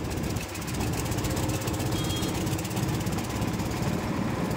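A bhotbhoti, a makeshift goods vehicle loaded with pipes, rumbles loudly and continuously at close range, a coarse chugging engine drone with no pause.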